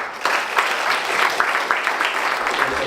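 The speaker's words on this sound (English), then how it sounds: "round of applause to our rapporteur" Sustained clapping from a conference audience at a sickle cell disease and hemophilia meeting, a thick even wash of hands with faint periodic swells, filling the room at a steady moderate loudness.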